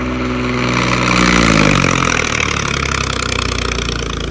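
A John Deere 5038 D turbo tractor engine runs with a steady low throb that swells briefly into a stronger rev before settling back to a constant rumbling drone, close and loud.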